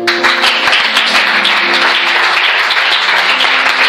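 Church congregation applauding to acclaim the Lord, loud sustained clapping from many hands with music tones held underneath, continuous for the whole stretch.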